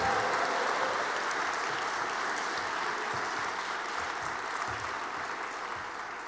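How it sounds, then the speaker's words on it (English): An audience at a Martin Luther King Day keynote keeps up broad, steady applause throughout, slowly tapering toward the end. "Could we give Dacian another round of applause?"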